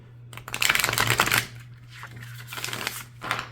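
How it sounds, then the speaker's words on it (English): Oracle cards shuffled by hand, a dense riffling burst of flexible matte cardstock followed by two shorter, softer shuffles, close and with no talking. "you can still shuffle them the normal way"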